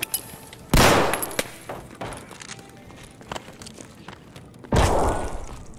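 Two sharp, loud gunshots crack close by in Escape from Tarkov, about four seconds apart, with quieter footsteps and thuds shuffling between them.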